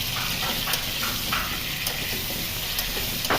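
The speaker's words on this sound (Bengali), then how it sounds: "কড়াইয়ের অবশিষ্ট তেলে কেটে রাখা আলু দিয়ে সাথে নুন দিয়ে নাড়াচাড়া করে নিয়ে বেশ লাল লাল করে ভেজে তুলে নিতে হবে" Cut potatoes frying in leftover oil in a wok with salt, a steady dense sizzle with faint stirring clicks and scrapes throughout.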